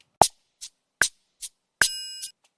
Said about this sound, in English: that's how the triangle sounds